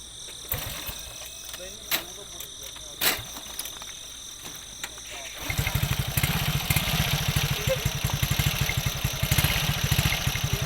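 A car engine out in a rice field starts partway through and runs with a steady, rapid, loud chugging pulse, after a quieter stretch of faint outdoor noise and occasional knocks.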